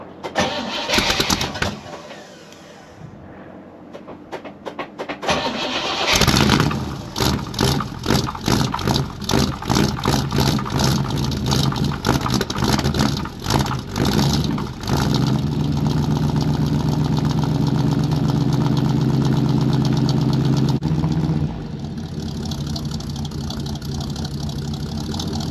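A 1955 Pontiac with a small two-barrel carburetor and no choke cold-starts at 7°F after months of sitting: cranking with uneven catches, then the engine fires and settles into a loud, steady, rumbling idle close by.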